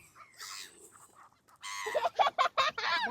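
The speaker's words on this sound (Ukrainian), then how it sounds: "Гусачок." A gander goose honks several times in quick succession, close and fairly loud, after a quieter stretch of softer bird calls on a rural farmstead.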